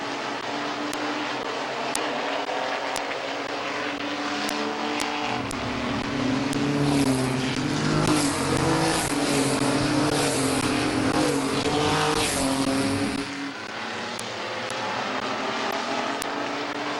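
Race cars lapping at Midvale Speedway, engines roaring past with a loud, sustained rising and falling drone that swells toward the middle and then drops away abruptly, leaving faint distant engine noise.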